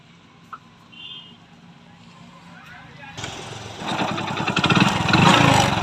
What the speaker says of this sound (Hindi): गाड़ी स्टार्ट करके हम आपको चेक करके दिखाते हैं इंजन की आवाज़ में बदलाव आई है नहीं